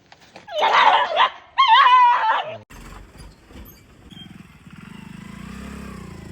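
Stray dogs being caught by dog catchers for vaccination yelp and bark in two loud bursts close by, followed by quieter rustling and low background noise.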